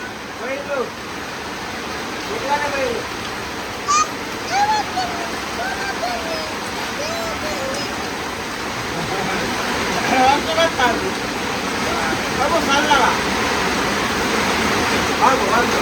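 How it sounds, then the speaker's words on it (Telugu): Steady heavy rain pours down in a dense continuous hiss, while a person talks over it throughout. "వర్షం మాత్రం మామూలుగా పడతలేదండి, కొంచెం కొంచెం ఎక్కువనే పడుతుంది కానీ తక్కువ పడట్లేదు"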